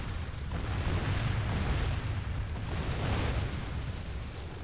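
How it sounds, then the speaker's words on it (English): Catapult shots landing during a night battle in Third Age: Divide & Conquer, a continuous rumbling roar of impacts and fire, loud and steady for several seconds. "we're going to let my catapults finish off their shots as well"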